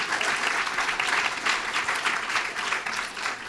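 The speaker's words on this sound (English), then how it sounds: "please give them a round of applause" An audience at a closing session of an academic conference applauds volunteers with a dense, continuous wash of clapping that swells and dips slightly in pulses without stopping.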